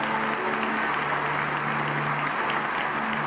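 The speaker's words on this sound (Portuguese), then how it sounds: "Você pode dar um aplauso bem forte ao Senhor?" A church congregation applauds loudly and steadily, a dense wash of clapping that fills the room without pause and with no voices rising above it.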